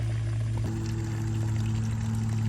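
Spring water pours and splashes steadily close by, a constant rushing flow with a low hum beneath it and no talking.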